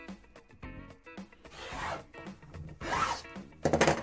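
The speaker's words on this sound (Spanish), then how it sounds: "Paso la cuchilla dura porque estoy cortando 6 capas de tela" A hard cutting blade slicing through six stacked layers of fabric, producing repeated rasping, zipper-like scraping strokes of varying length, close and clear with no talking.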